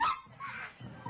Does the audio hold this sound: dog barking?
yes